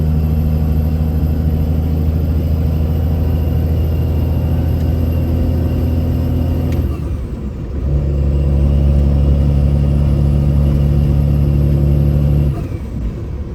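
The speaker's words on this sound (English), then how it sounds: "This truck likes to go." A truck hauling a heavy load accelerates with a loud, steady, close engine drone and deep rumble, briefly dipping around a shift before climbing again.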